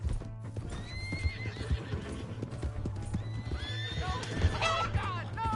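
Horse galloping and whinnying in the Red Dead Redemption 2 video game, rapid rhythmic hoof clip-clops under loud neighs and whinnies, with people shouting over it.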